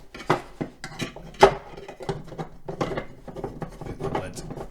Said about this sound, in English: Just going to plug the main board back into the I/O board.